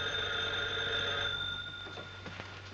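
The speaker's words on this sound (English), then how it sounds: "Well, the phone's ringing." An old-fashioned telephone bell rings steadily in a 1930s comedy setting, a sustained bright metallic ringing with strong tones, fairly loud and alone with no talk.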